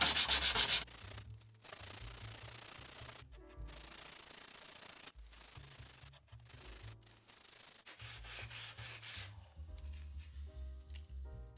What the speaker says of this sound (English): Now I'm going to go on to 600 grit and give it a quick going over just to smooth everything up.